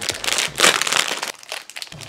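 Close, loud crinkling of the plastic wrapper on a packaged Mr. Brownie brownie. Handling comes in several bursts of rustling and crackling with brief pauses between, no speech over it.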